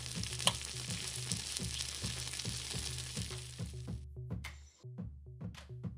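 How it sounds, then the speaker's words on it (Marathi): An omelette fries in a pan with a continuous sizzle, close and moderately loud, punctuated by rhythmic scraping and tapping of a utensil, with the sizzle dropping out briefly near the end. "दुसरीकडे साइड बाय साइड ऑमलेट सुरू होतं।"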